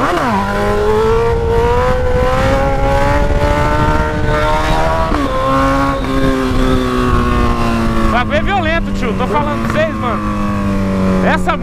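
A Honda CB1000 motorcycle with only an exhaust pipe revs hard in a loud, continuous roar, its pitch climbing and sagging between throttle bursts, with a voice speaking underneath.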